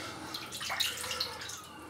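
Water splashes and trickles close by as a face is rinsed at a sink with warm water after a wet shave, making soft, irregular splashing with no voices.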